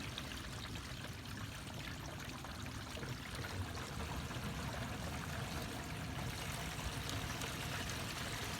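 Grey water from an RV tank rushes steadily through the drain hose, a continuous hollow gushing flow without pause and no one speaking.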